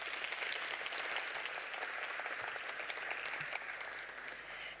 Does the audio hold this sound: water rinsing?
no